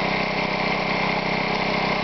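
A small gasoline lawnmower engine drives an air compressor, running as a steady, even drone that stays constant and fairly loud throughout.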